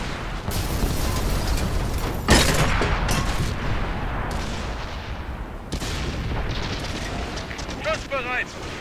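A tank cannon fires in World of Tanks on Xbox One, with two sharp, loud blasts standing out above a continuous rumble of battle noise, and voices heard at times.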